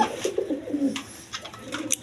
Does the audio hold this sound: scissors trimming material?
no